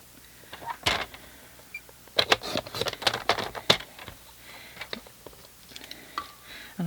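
Paper trimmer slicing cardstock for a handmade fold card: several sharp, close clicks and swishes of the blade, with brief clusters of crisp taps and quieter pauses between.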